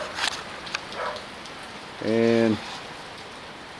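Rain falls on a farm where steers and heifers are being fed, a steady close patter on surfaces, with a brief tonal voice-like sound in the middle and a word spoken.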